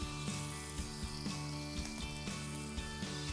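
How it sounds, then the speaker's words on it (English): Veal shanks browning in oil in an extremely hot pan, a steady close sizzle with a regular rhythmic thumping pulse running beneath it. "So we take our oil, the pan is extremely hot, and the veal shanks"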